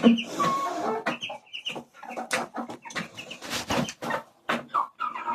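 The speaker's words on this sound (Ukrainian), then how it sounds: "покажу вам бролірків своїх і зважу їх" Ten-day-old broiler chicks cheep and cluck together at close range, a steady chorus of short peeping calls with brief pauses between bursts.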